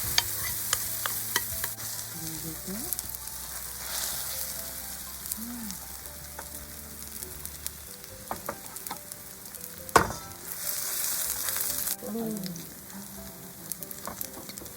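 Oil sizzles steadily in a hot pan while frying crispy battered mussels, with occasional stirring clatter and scrapes, fairly close, no talking.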